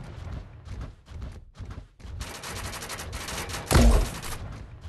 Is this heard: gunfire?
yes